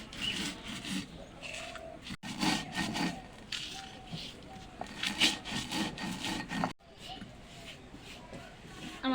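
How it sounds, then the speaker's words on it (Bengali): Fried spices being ground by hand, with a rhythmic scraping and rubbing of stone on stone in repeated strokes, close and fairly loud, broken by brief pauses. "আমি ভাজা মশলাগুলো গুঁড়ো করে নেব"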